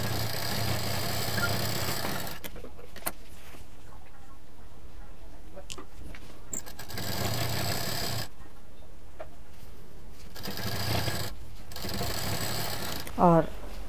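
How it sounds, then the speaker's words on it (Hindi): A sewing machine stitching a waist mobile case runs in three loud, steady bursts separated by quieter pauses with small handling sounds. "यहाँ डबल मशीन चलाते हुए सीधा इसको पैक कर देंगे।"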